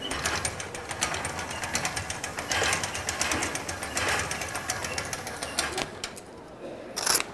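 A museum machine built to dispense a strip of gallery guides gives off rapid, rhythmic mechanical clattering and whirring that runs steadily for about six seconds, then drops off and ends with a brief sharp burst.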